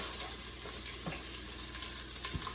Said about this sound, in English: I'm gonna throw that down in there, and you're gonna hear it sizzle.